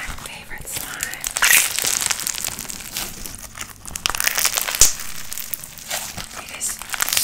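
Close, crinkly crunching and crackling as crunchy slime is squeezed repeatedly, with soft whispery noises between the bursts.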